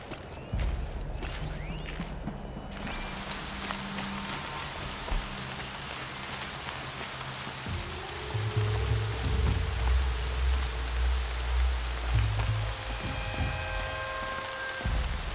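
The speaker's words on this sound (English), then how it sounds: "More rain. My boots will get damp." Steady rain hisses and patters throughout the game Horizon Zero Dawn on PS5, with low rumbling game ambience and tonal music swelling midway, no voices.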